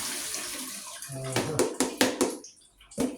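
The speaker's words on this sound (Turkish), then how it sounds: "buradan ben patlıcanımı süzüyorum" Eggplants drain in a kitchen sink, with water splashing and sloshing near the microphone in a few short bursts and a clatter of handling, while a voice talks over part of it.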